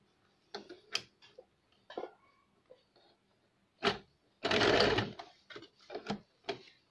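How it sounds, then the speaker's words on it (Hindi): Sewing machine running in short separate bursts and one longer continuous run while stitching a thin handmade cord from doubled thread, close and fairly loud, with no talk. "थोड़ा पक्का सिल लेंगे हम इसे, ताकि खींचते वक्त टूटे ना।"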